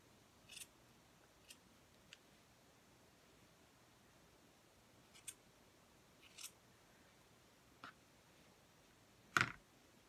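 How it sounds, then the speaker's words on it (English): Scissors snipping the yarn ends of a tassel, a series of short, quiet close-up clips spaced irregularly, with one sharper, louder snip near the end and near-silence in between. "I'll usually just pull it down like that and then just cut the ends up pretty good."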